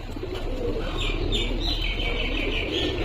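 Pigeons coo inside a loft housing a male pigeon and its mate, the soft calls blurred within a loud, steady wash of background noise and faint chirps.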